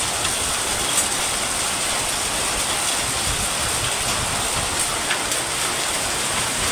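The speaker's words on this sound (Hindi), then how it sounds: "लिटरली ओले पड़ रहे हैं।" Extremely heavy rain with hailstones pounding down in a steady, loud, dense roar, with occasional sharper clicks of impacts over the constant downpour.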